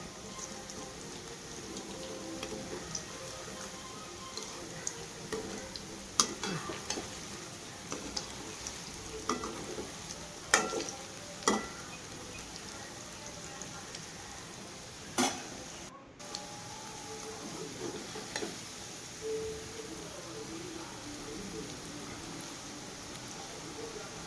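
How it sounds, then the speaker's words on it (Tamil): Cauliflower 65 florets deep fry in oil for a crispy hotel-style snack, giving a continuous fizzing, rain-like sizzle with scattered louder crackles throughout a long, fairly quiet stretch. "எண்ணெயில் பூ போட்டதையுமே வந்து திருப்பிடாதீங்க."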